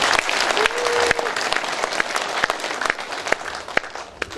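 A crowd at an outdoor walking event in Jeonju's Deokjin Park gives a lawmaker a big round of applause, dense and steady throughout, with voices mixed in beneath the clapping.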